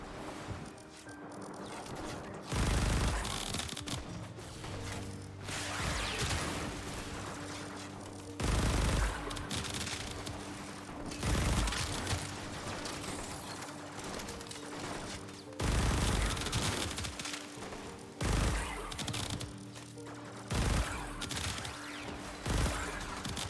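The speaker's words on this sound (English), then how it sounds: "All right, let's try their alternate fire." Repeated bursts of weapon alternate fire in the Warframe video game, loud volleys spaced every few seconds over a steady backdrop of game noise and music, with no talking.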